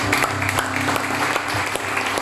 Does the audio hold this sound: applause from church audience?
yes